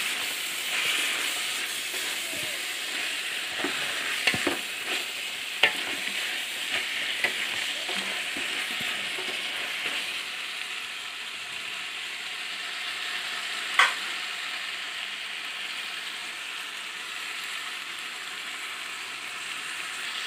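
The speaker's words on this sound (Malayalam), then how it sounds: "നമുക്കിതിലേക്ക് വെളുത്തുള്ളി ഇഞ്ചി പച്ചമുളക് പേസ്റ്റ് ഇട്ട് കൊടുക്കാം ഇതെല്ലാം നമുക്ക് നല്ലപോലെ ഒന്ന് മിക്സ് ചെയ്യാം" Garlic, ginger and green chilli paste stir-frying in oil for chicken biryani, a loud, steady sizzle and hiss close by with occasional spatula scrapes and taps, continuous for the whole stretch and with no voices.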